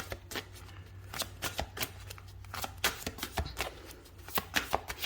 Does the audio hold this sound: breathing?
no